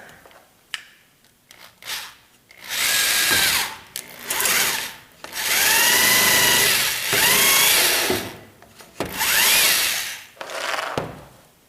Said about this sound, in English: I found an old drill that only goes forward, has no reverse, which is good because that way we don't have accidental reverse on the barrel trimmer